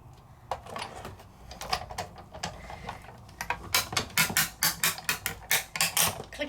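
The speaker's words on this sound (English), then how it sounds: "That's the sound of die cutting." Die cutting machine clicks steadily as a die and stamp plate are fed through, first softer scattered ticks, then a loud, regular run of sharp clicks close up, with no talking.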